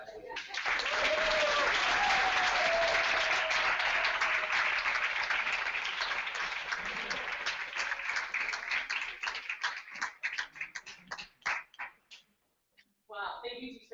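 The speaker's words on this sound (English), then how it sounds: "please join me in giving a round of applause to everyone who's graduated" Audience applause for graduates at a service-fellowship celebration, a loud sustained burst of many clapping hands that thins into scattered claps and fades, with a few voices breaking in near the end.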